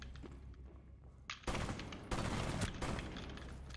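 Rapid gunfire from Rainbow Six Siege, with an extended barrel attachment, crackles in loud, dense bursts after a quieter opening, with a brief pause between two sustained volleys.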